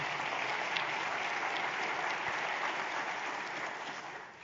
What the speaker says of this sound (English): Let's give a round of applause to Dr. Craighead for all he does for us in this region